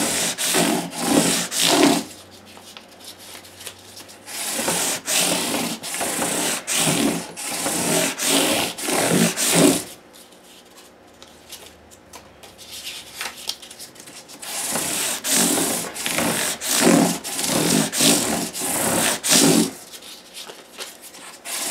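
Wooden block wrapped in three stacked sheets of 600-grit emery polishing paper rubbed back and forth over a workpiece, giving rhythmic close scratchy strokes in bursts with a short pause midway.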